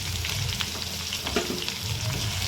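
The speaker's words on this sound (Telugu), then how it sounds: "వీటిని మంచిగా ఫ్రై అవ్వనిద్దాం." Sliced onions and two green chillies frying in oil in a pan, a dense, continuous close-up sizzle with faint stirring movements underneath and no speech.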